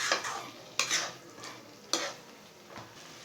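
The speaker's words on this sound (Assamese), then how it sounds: "ধুনীয়াকৈ লৰাই দিছো মাংসখিনি" Chicken pieces being stirred in a pan for a dry chicken masala with no gravy, with a spatula scraping in separate strokes roughly a second apart over a soft background sizzle.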